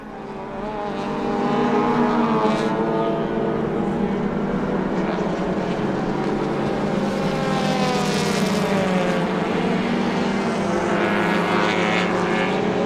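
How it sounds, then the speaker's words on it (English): Four-cylinder front-wheel-drive touring car engines drone loudly and continuously at a race, their pitch rising and falling as cars pass at a distance; no talking. "Love hearing these 4-cylinder engines."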